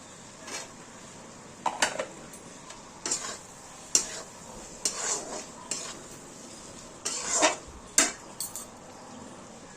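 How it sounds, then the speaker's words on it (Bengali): Eggs go into a pan of cooked-down masala with released oil for egg biryani, then get stirred: a series of sharp scrapes and clinks of a utensil against the pan over a faint sizzle, close by with no talk. "এই অবস্থায় আমরা এখানে ডিমগুলো দিয়ে দেবো।"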